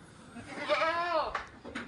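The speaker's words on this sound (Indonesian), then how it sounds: "bisa diamati bagaimana kambing ini selalu teriak-teriak" A Boer goat doe in heat bleats loudly and close by, one long wavering cry rising then falling, followed by fainter short calls from nearby livestock.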